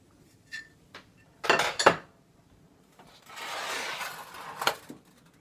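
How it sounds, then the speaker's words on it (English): A metal pan clatters and scrapes on an unlit stove burner with a few sharp knocks, then a longer rubbing scrape, heard close with no talking. "I'm going to put this pan on this burner, which is not hot"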